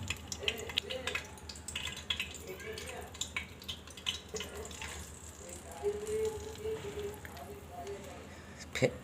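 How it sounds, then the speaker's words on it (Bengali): An egg, onion and chili mixture frying in hot oil inside a rice cooker gives a steady, moderate sizzle and crackle, with occasional stirring clatter throughout. "শব্দ পাওয়া যাচ্ছে তেলটা গরম হয়ে ফুটছে তো এখন এই ডিম পেঁয়াজ মরিচের সাথে যেটা মিশ্রিত করেছি এটা আমি দিয়ে দিই"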